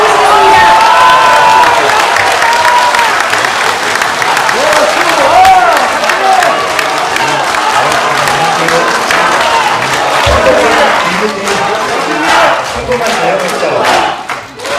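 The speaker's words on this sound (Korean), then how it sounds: "큰 박수" A big round of applause mixed with cheering and shouting from a crowd at a political talk event, loud and sustained, with voices calling out over the clapping before it thins toward the end.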